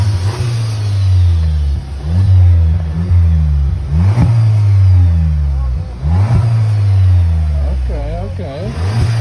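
Straight-piped Volkswagen GTI engine revs repeatedly in a garage, several loud throttle blips rising and falling over a steady low idle, up close, with some voices around it.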